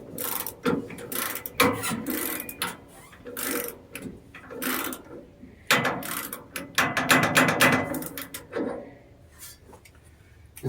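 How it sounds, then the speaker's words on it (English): A sawmill blade is tensioned with a series of close mechanical ratcheting clicks and cranking rattles that come in uneven bursts, with brief pauses in between. "the first thing I'm going to do is I'm going to tension my blade."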